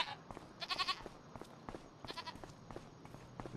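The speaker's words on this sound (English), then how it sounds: "So we've got goats." Goats in the farming video game Farming Simulator 25 give short, nasal bleats, one loud burst then a string of quieter calls scattered over a faint background hum.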